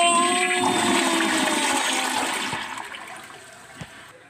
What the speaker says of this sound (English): Okay, then I'll flush the toilet.